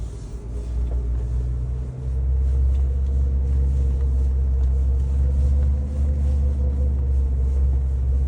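A car on road tyres climbs a wet grass hill off-road, its engine a heavy low rumble that holds steady and close with a brief dip partway through.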